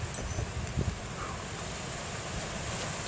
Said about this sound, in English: you could hear that wind. It is windy out here.